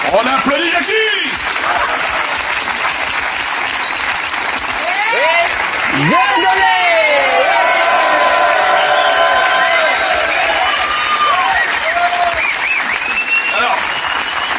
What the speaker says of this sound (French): On applaudit Jackie!